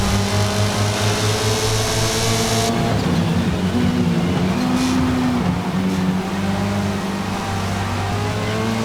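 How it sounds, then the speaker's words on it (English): Touring car engines in a Forza Motorsport race at Road America, including a Golf GTI, droning steadily and loudly with sustained tonal whine and shifting pitch, one rougher-sounding car nearby, no talking. "That's an awful sounding car."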